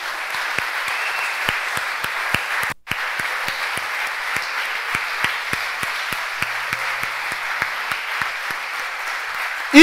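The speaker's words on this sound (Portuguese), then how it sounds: "Você pode aplaudir o Senhor Jesus?" A church congregation applauds steadily for about ten seconds, dense even clapping filling the room, with a brief dropout near the three-second mark before the applause resumes at the same level.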